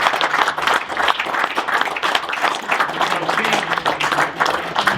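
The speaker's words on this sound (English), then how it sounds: "So we should give a round of applause for Jim Pierce." A room of people at a decoy museum gathering applauds for Jim Pierce, a steady, moderately loud mass of clapping sustained for several seconds with a low murmur underneath.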